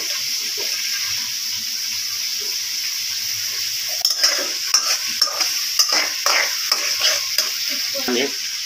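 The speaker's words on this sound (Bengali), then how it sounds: "এর মধ্যে আমি আগে থেকে কাটা ছিল আমার পেঁয়াজ, দিয়ে হালকা একটু নেড়ে চেড়ে নিচ্ছি।" Chopped onions frying in a pan, starting as a soft steady sizzle, then a run of clattering spatula stirs and scrapes against the metal over the hiss.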